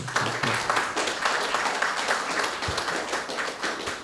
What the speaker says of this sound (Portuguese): Salva de palmas para o Sayegh.